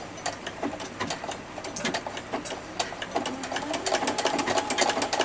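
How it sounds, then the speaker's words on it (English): A sewing machine stitching through fabric with a presser foot fitted, giving a loud, close, steady train of rapid mechanical needle beats for about five seconds. "I usually just do a couple of stitches using the hand wheel just to make sure that it's not going to hit the needle."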